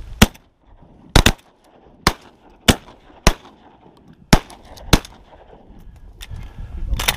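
Shotgun blasts are fired at a goose outdoors, about nine sharp, loud reports spaced irregularly over several seconds, with a noisy rumble building toward the end.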